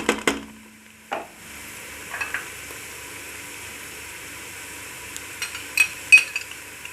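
Onions frying in a pan with garlic and green chili paste, a faint steady sizzle under intermittent spoon clinks and scrapes against the pan, louder taps clustered at the beginning and toward the end.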